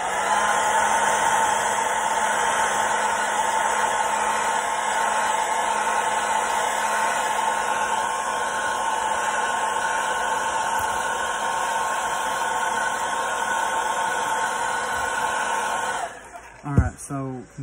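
A heat gun or hair-dryer-style blower runs steadily, loud and close, setting fingernail polish on a fishing crankbait, a constant whooshing hum with a faint whine, then cutting off at the end as a voice begins.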